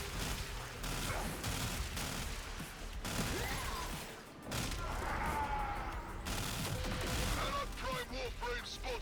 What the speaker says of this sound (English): Need to shoot enough Anarchs.